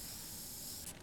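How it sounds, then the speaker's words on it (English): Spray paint can hissing in Dead Rising 2, a steady bright aerosol spray running for about a second without pause. "I thought actually the spray paint did work on more stuff."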